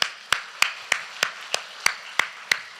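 A church congregation at a Korean sermon claps together in unison, eight sharp, evenly spaced claps at a steady brisk rhythm over low room tone.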